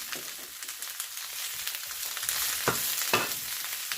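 Salted cabbage fries in a pan while it is stirred and turned, a steady close sizzle with crackling pops and occasional louder stirring scrapes.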